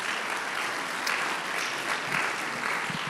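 A church congregation applauds in a dense, continuous wash of clapping that fills the room, steady and fairly loud from start to finish with no voices over it.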